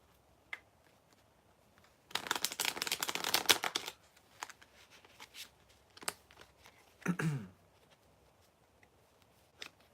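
A burst of tarot card shuffling, a rapid riffling flutter lasting about two seconds, followed by soft taps and a brief slide of cards in a quiet room.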